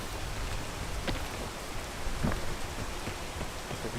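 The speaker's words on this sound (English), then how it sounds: "The rain's gonna be a pain" Steady rain falls throughout in the video game PEAK, a dense even hiss of drops with a few faint rumbles like distant thunder, heard alone without voices.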